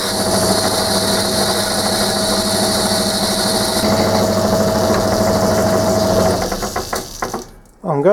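A metal lathe bores a crank bearing support with the power feed engaged, producing a loud, steady mechanical hum and whine that runs evenly before winding down, followed by a brief voice at the end.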